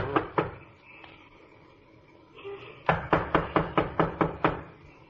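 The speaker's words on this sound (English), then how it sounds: "knock on the door anyhow" Knuckles rap on a wooden door, two knocks followed by a pause, then a quick run of about eight firm, evenly spaced knocks, close and clear.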